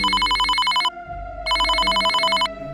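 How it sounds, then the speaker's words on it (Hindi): A phone call rings out in two clear bursts of a bright electronic telephone ring with a brief gap between them, loud and close, with no talking. "गुप्ता जी अपना फोन से मिश्रा जी को कॉल लगाते हैं"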